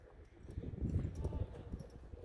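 Horse hooves clip-clop in a quick, uneven rhythm close by, with a faint voice murmuring underneath.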